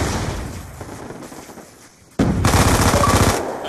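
Rapid automatic gunfire from a weapon in Black Ops 2, a dense burst of loud shots that breaks in suddenly after quieter game noise and carries on steadily to the end.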